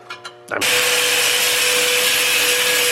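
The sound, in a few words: saw cutting through a steel muffler pipe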